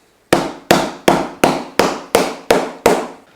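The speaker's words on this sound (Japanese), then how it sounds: "ソールを叩くときは直接叩くと結構ハンマーの跡がつきやすいので、1枚板をかまして叩きます。" A hammer strikes the leather sole of a brown bear leather whole-cut shoe through a protective leather pad, landing eight sharp, evenly spaced blows up close, each with a quick decay.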